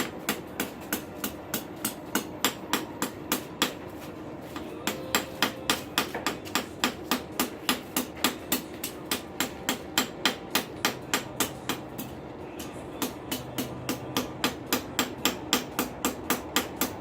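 A straight peen hammer forges hot metal for a rose, striking in a steady, fast rhythm of sharp, ringing blows that repeat close by for the whole stretch with only brief pauses.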